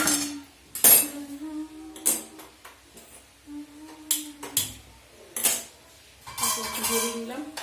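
A kadai (wok) being set back down on a stove while frying fish, several loud metallic clanks and scrapes in uneven bursts with quieter pauses between.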